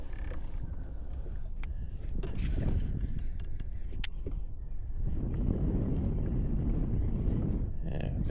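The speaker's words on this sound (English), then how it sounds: "the wind blowing the line off to this side" Wind gusting over Green Lake during fishing, a steady close buffeting roar against the microphone that swells louder in the second half, with faint clicks of tackle.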